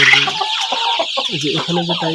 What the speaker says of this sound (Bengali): এখানে যে টাইগার মুরগিগুলো রয়েছে